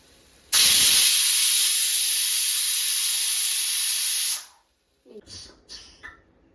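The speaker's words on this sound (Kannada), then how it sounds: "ಈಗ ದಮ್ ಆಗೋದಕ್ಕೋಸ್ಕರ ಒಂದು ವಿಸಿಲ್ ಕೂಗಿಸ್ಕೊಳ್ಳೋಣ." Pressure cooker whistle on a pot of soya chunks biryani lets out one loud, steady hissing blast of steam for about four seconds, then cuts off, followed by a few short fainter puffs.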